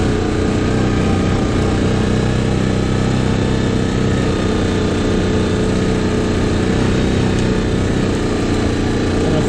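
Continuous engine drone of a quad ATV being ridden, steady and loud throughout with a rough, buzzing mechanical tone and no letup.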